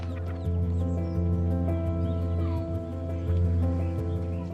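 Several chickens cluck softly and repeatedly, close by, over a low steady hum in the background.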